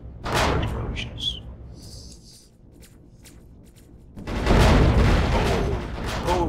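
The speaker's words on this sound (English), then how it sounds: "Oh, explosions, more explosions." Heavy booming video game explosions, one at the start and a longer rumbling chain-reaction burst near the end, with a few faint higher clicks in the quieter middle.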